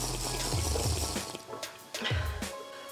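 A glass of water is drunk first thing after waking, with close, wet liquid sounds and a few low gulping swallows spread across the moment.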